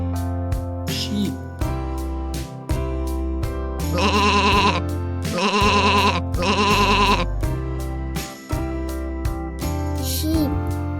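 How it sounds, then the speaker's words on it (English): Sheep bleating in a farm-animal sound sequence, with repeated bleats over a steady low hum and a couple of longer, louder bleats near the middle. "Sheep."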